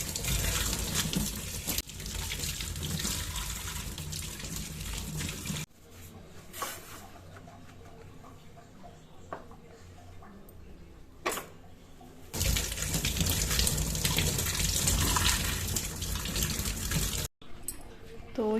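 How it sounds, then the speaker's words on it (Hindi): A pressure cooker lid with spilled lentils is rinsed and scrubbed under a running kitchen tap, with loud steady gushing water in two long stretches separated by quieter handling and clinks. "ये पूरा का पूरा ना पूरा साफ़ करना पड़ेगा ये, धो धो के इसको"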